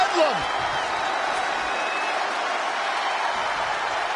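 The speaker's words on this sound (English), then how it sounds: "Look at this crowd. It's insanity in here. Bedlam." A roaring wrestling arena crowd in WWE 2K20 cheers in a steady, dense wall of noise that holds from start to finish, with no voices speaking over it.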